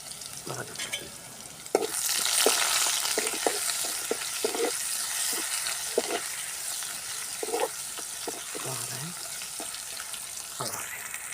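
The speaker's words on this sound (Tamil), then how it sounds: "பொரியட்டும் இஞ்சி பூண்டு பேஸ்ட்டு இது தட்டி வச்சுருந்தது தான் பச்சை மிளகா போட்டிருக்கேன்" Ginger garlic paste and green chillies fry in a pan for a village-style pea kurma, a steady sizzle rising after two seconds and carrying on with scattered stirring scrapes and clicks near the mic.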